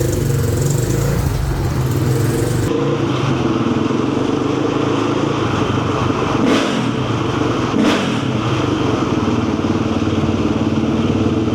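A 2000 KTM 520SX big-bore four-stroke dirt bike engine rumbles loud and close in a steady, throaty drone, with a shift in tone early on and a couple of brief surges.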